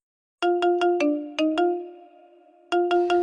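A Squid Game ringtone plays from a phone as a bright electronic melody of short plucked notes, a quick run of beats, then a held sustained note before the pattern starts again, clear and alone without talk.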